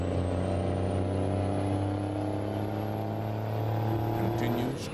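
A truck engine drones steadily in American Truck Simulator, its pitch climbing slowly over several seconds before dropping sharply near the end as it shifts down a gear, loud and close.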